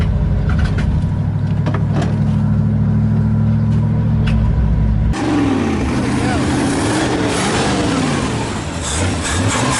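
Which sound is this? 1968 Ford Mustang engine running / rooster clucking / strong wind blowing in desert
1968 Ford Mustang engine running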